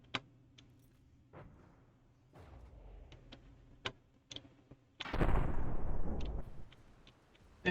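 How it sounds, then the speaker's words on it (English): Particle cannons fire in the From the Depths naval combat game, with sharp scattered cracks and pops, a few duller thuds, then a sustained heavy roaring blast that swells and slowly fades, all without voices. "And it looks like the particle cannons missed that time."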